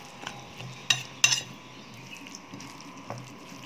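Corn fritter batter being mixed in a bowl makes quiet, close scraping and stirring with a couple of sharp utensil clinks against the sides.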